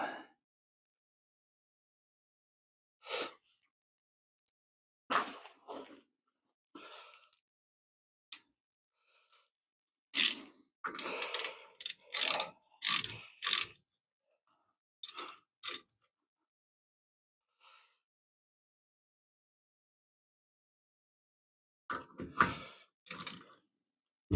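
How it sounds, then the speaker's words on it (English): A wrench tightens a nut to pull a replacement wheel stud through a vehicle's front wheel hub, giving scattered metallic clicks and ratcheting bursts between quiet gaps, with a denser cluster midway. "I'm just going to use the nut here to pull that through."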